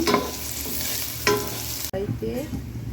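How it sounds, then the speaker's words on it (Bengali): Onions and spices sizzle and fry in oil in a pan, with a couple of stirring scrapes and clinks of a utensil against the pot; no voices. "মশলাটা পেঁয়াজটা ভালো করে ভেজে দেবো"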